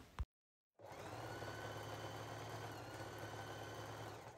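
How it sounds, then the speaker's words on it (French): A sewing machine runs a straight stitch down a skirt seam in a steady, continuous mechanical hum after a brief click and a moment of silence. It sounds fairly quiet and close, with no voices. "Vous n'avez plus qu'à vous diriger vers votre machine et à coudre avec un point droit de haut en bas."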